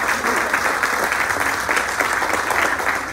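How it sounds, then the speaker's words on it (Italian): Steady, dense applause from an audience at a book presentation, sustained throughout at an even loudness. "Che vorrei che faceste un applauso,"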